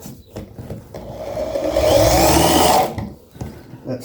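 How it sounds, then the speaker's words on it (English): A power drill drives screws into a wooden raised bed, one steady whirring burst of about two seconds rising and cutting off, with faint knocks and handling before and after. "I'm going to go ahead and put some screws in here to get down inside that"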